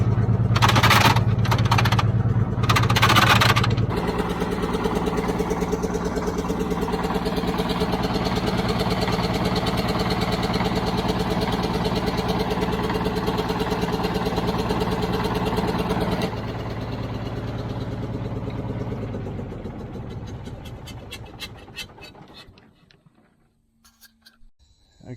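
Seven-year-dormant Caterpillar road grader diesel idling steadily with a heavy low rumble and rattling, then shutting down and spinning to silence near the end; no talk.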